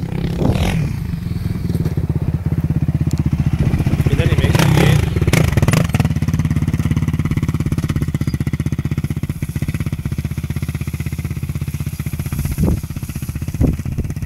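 Motocross motorcycle riding downhill, a loud continuous engine drone close by with scraping and clattering bursts mid-way, people talking over it.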